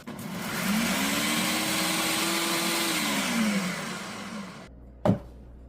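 An electric grinder whirs loudly for several seconds while grinding garlic, cumin, carom seeds, whole coriander and black pepper, then cuts off and is followed by a single sharp clack.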